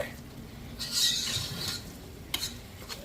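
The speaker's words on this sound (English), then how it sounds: "gradually whisk in the broth and the milk" Broth and milk whisked into a pot of broccoli cheese soup with browned bacon bits, giving faint, brief scraping and swishing strokes, loudest near the start, against a quiet kitchen background.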